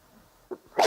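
A single sharp sneeze bursts out near the microphone in a quiet city council meeting room, followed by a brief moment of silence.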